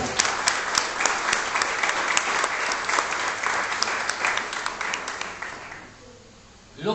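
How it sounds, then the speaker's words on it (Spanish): A church congregation breaks into loud, sustained applause lasting several seconds, dense and steady, then fading out as a voice begins speaking. "Denle otro aplauso fuerte al Rey."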